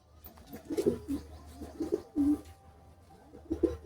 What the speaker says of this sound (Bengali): এটা হচ্ছে বাজি পায়রা। দেখে নিন, এটা একেবারেই ছোট একদম। দেখুন, এখনো চিচি করে ডাকছে।